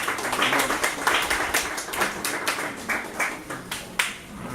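A small audience claps in a room, a thin, uneven patter of separate hand claps rather than a full roar, fairly close and continuing for several seconds before thinning out.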